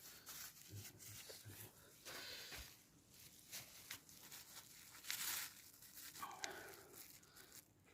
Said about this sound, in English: Plastic bags on my feet.